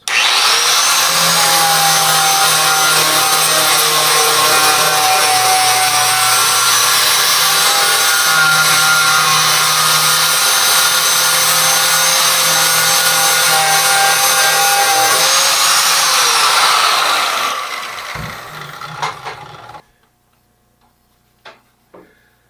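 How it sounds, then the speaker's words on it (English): An angle grinder fitted with a flat flap disc grinds on a tractor cab roof, giving a loud, continuous abrasive whine for about seventeen seconds that then winds down and stops, followed by a few faint knocks. "We're going to try it with a flat disc on my grinder."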